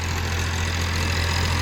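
A tractor engine idles steadily in a dry mustard field, a low continuous rumble with no break and no voices over it.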